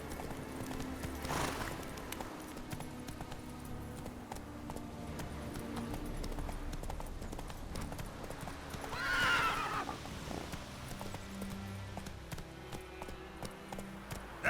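Game horse Roach from The Witcher 3 clip-clopping steadily on hooves, with a bright whinny rising around the middle, all under a continuous game ambience.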